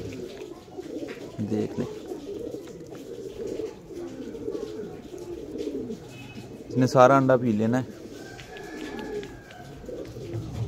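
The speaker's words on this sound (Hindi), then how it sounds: "और वो कबूतर आ गया नीचे," A pigeon coos close by in a domestic loft setting, a burst of throaty cooing standing out loudly near the middle, with people talking in Hindi before and around it.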